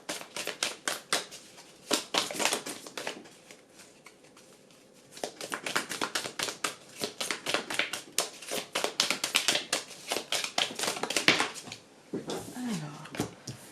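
Oracle cards shuffled by hand during a Friday energy reading, a quick run of crisp papery taps and riffles that stops briefly and then resumes in dense bursts, close and fairly quiet.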